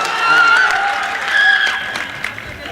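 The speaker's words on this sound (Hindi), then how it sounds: "अच्छा लगा हो तो जोरदार तालियां बजाइए" An audience at a mushaira poetry gathering breaks into applause, a dense wash of clapping that swells and then tapers off over a few seconds.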